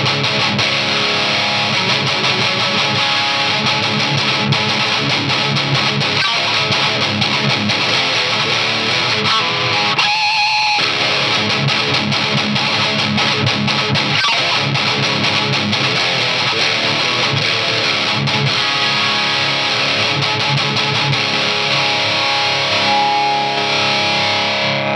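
Electric guitar played through a Blackstar Amped 3 amplifier on its EL84 setting gives a loud, dense distorted tone that rings continuously, with one brief gap near the middle.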